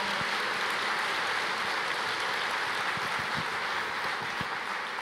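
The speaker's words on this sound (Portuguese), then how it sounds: "Pode aplaudir o Senhor, Ele é digno." A church congregation applauding: a continuous, even wash of many hands clapping, like rushing noise, with no break.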